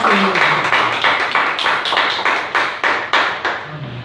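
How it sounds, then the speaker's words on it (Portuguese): A church congregation clapping together in praise, a dense run of hands beating in steady rhythm for about four seconds, loud and close, with a few voices calling out beneath. "Dê uma salva de palmas bem forte"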